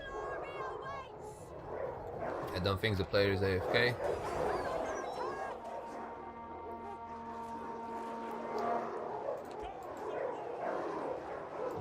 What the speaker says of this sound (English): so I'm going to release my dogs.